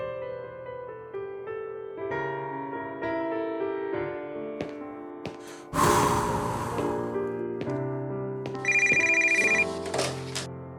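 Telephone rings in a dramatic scene, with electronic ringing tones sounding among sustained tonal music, a short noisy burst midway, and a brighter repeated ring near the end.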